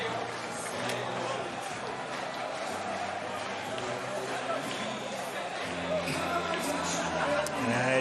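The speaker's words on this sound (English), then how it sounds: "let's just have a listen for a moment to this German crowd." A large crowd in a German stadium roars and cheers continuously at a distance at a canoe-kayak sprint world championship final, a broad wash of voices with a louder commentator-like voice over the top.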